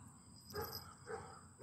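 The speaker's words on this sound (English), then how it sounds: "Sorry for the barking in the background." Neighbouring dogs bark in the background, two short bursts about half a second apart, somewhat distant and moderate in level over a low steady room hum.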